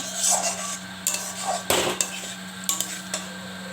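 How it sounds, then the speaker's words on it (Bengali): Eggs are sautéed in spice masala for a Bengali egg curry, a metal spatula scraping and clinking against the pan in scattered knocks over a steady low hum, with no talking. "ডিমটা ভালোভাবে কষিয়ে নেব"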